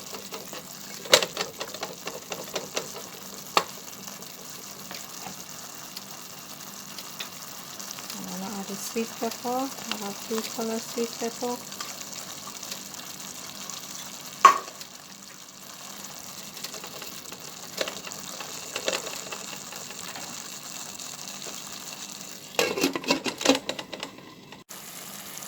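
Saltfish stew with sweet peppers fries in a pot with little oil, giving a faint steady sizzle, occasional clicks and scrapes of stirring, while someone talks over it.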